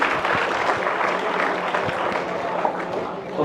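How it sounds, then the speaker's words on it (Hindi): Children in a class clap loudly for three classmates, a steady close-up burst of applause lasting a few seconds with voices mixed in. "एक बार और जोरदार ताली बजाएंगे तीनों के लिए"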